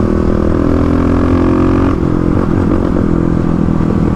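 A 35 hp Kawasaki KLX351 dirt bike thumps along under the rider, its single-cylinder engine loud and close, holding a steady drone before the note shifts and rattles with clatter midway.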